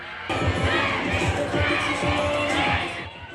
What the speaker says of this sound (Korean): 함성이 쏟아지고 플래시가 쉬지 않고 터집니다.